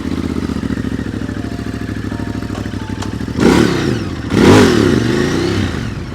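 Ducati Desert X adventure motorcycle idling steadily up close, then blipped twice into loud, rising revs that hang briefly before easing back, with no voices over it.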